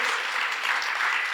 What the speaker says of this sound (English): Clap it up for these kids.